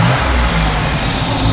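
The engine of a 1987 Buick Turbo T revs under throttle, close and loud, as a dense, continuous growl with a deep, throaty low end and no voices over it.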